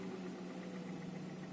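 Hyundai Solaris engine idling with a knocking fault, a steady low hum with faint rapid ticking pulses running through it, heard close and fairly quiet.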